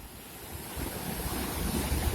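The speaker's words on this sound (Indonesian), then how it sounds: "Desiran ombaknya." Ocean waves washing onto Ujong Lhok Geulumpang beach in Calang, Aceh Jaya, making a steady, broad hiss of surf mixed with wind buffeting the microphone, continuous and fairly loud with no distinct breaks.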